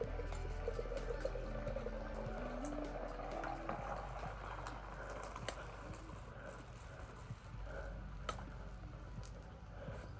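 Molten copper poured at once from two crucibles, giving a faint, steady bubbling hiss and crackle with soft scraping, quiet and close, with little talk.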